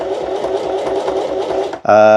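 A sewing machine stitches fabric for a DIY bikepacking bottle cover, running in a steady fast rhythmic buzz for nearly two seconds before a sharp tonal whine takes over at the end.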